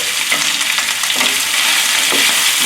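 Vegetables hiss and crackle loudly in a very hot pan while being stir-fried for cashew beef, with a steady bright sizzle and a few soft stirring pulses.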